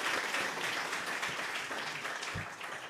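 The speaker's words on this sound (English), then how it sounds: "Please clap your hands." At a product launch event, an audience claps for a guest being welcomed on stage, producing soft, fairly distant applause that stays steady and thin throughout.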